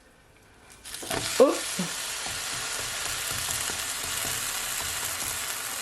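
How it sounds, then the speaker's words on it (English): A fruit cake pancake hits the pan with a soft clatter after being flipped, then fries with a steady, quiet sizzle; a brief exclamation is heard at the moment of the flip. "now that the hole has appeared on top of my pancake, I'm gonna flip it over"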